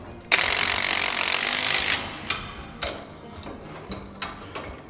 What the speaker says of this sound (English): Using your crescent wrench and your impact, you're going to tighten up the carrier bearing.